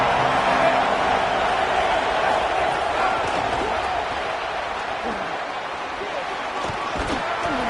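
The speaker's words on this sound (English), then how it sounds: "This crowd bringing the energy and noise early." Football stadium crowd at a Clemson versus West Virginia college game, a loud, steady roar of thousands of fans filling the air throughout, with a commentator's voice faintly present.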